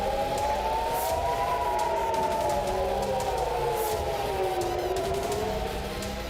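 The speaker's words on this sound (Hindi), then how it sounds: "तेल अवीव में air red alert siren activate हुए।" An air raid alert siren sounds over Tel Aviv, a long wavering wail that rises and falls continuously, loud and steady with some background noise.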